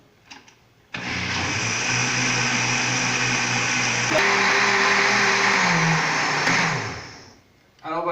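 A countertop blender whirs loudly and steadily, blending coconut with liquid into homemade coconut milk, its motor pitch shifting as the mixture churns before it winds down and stops.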